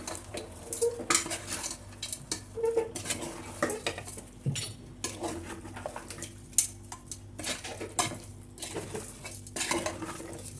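Mutton is stirred with rock salt in a pressure cooker pot, irregular close scraping and clinking of a spoon against metal in uneven bursts, with no speech.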